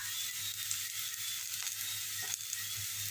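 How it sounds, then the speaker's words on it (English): Rice sizzles steadily in a hot pot for Trinidadian black-eye cook-up rice, a continuous close, bright crackling hiss with a low hum underneath and no talking. "whilst our rice is sizzling"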